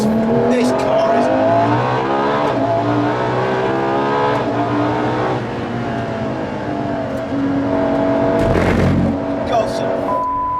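A 950+ bhp Ferrari LaFerrari being driven hard, its engine loud and close as the pitch climbs and falls through gear changes, with a sharp burst near the end and someone talking over it.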